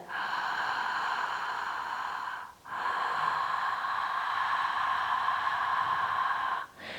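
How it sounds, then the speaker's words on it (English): Steady hissing breath through the mouth during a calming breathwork exercise, long continuous airy passes broken by two brief pauses for a change of direction, close and even in level. "You are creating this kind of snake sound on the inhales and on the exhales."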